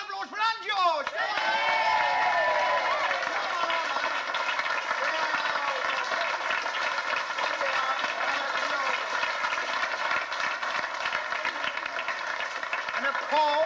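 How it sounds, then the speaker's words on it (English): At a church pantomime, an audience gives a round of applause for the co-producer and choreographer, steady clapping running throughout beneath music and a voice speaking over it. "Ladies and gentlemen, round of applause for Anne George."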